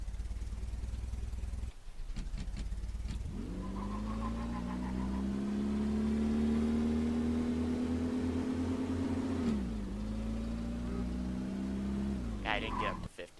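A mid-1980s sports car accelerates during a driving test, its engine note rising steadily and droning for several seconds before easing off, heard from inside the cabin with some background noise.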